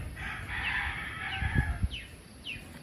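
Hungry farm chickens clucking close by, a cluster of overlapping clucks and short squawks over a few seconds, with a couple of brief rising calls near the end and no talking.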